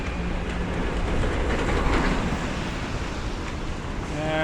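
An elevated subway train on McDonald Avenue in Brooklyn rumbles and rolls into a station overhead, a continuous heavy rail roar with clatter and a rising squeal near the end, heard from the street below.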